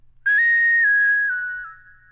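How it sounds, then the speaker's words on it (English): A whistled note run through auto-tune and a filter in an FL Studio vocal preset, heard alone as one sustained, synthetic-sounding tone of about two seconds that steps down in pitch and fades. "for you guys to hear how the whistle sounds like with the auto-tune and the filter on it"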